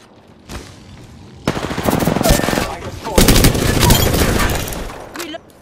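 Rapid automatic gunfire in Apex Legends rattles in two long, loud bursts separated by a short gap, with sharp individual shots near the start and in-game voices under the fire.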